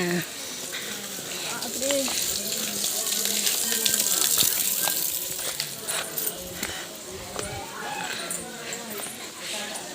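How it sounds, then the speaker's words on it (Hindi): A steady, hissing rush of falling water from a waterfall near Narayani temple fills the scene, broad and constant, with people talking over it nearby. "झरना"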